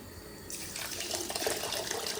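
Rice being washed by hand in a sink under running tap water for khichdi; a steady nearby stream of water swells and splashes more busily about halfway through, with no voices.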